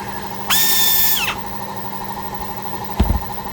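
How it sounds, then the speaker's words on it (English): A power drill whines steadily for under a second as it bores a hole into a broken stud to take a bolt extractor, ending with a brief clunk; close and loud, with no talk. "Got a hole drilled."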